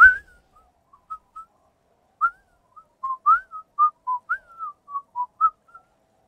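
A single person whistles a short tune of quick, separate clear notes close to the mic, with silence between phrases and no talk. The whistling accompanies play of the video game Disco Elysium.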